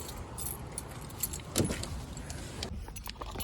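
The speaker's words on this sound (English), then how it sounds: "Go ahead and turn our key here." Ignition key turned in a worn Roadster with a manual transmission in neutral, clutch in: a brief metallic key jangle and click near the middle over a steady low rumble of the car's surroundings.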